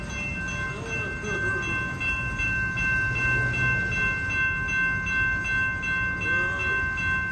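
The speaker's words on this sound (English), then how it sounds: "This is a long manifest train." A long BNSF manifest freight train keeps rolling through the Calwa diamond crossing in Fresno, California, its cars producing a continuous heavy rumble with a constant high-pitched metallic ring over it.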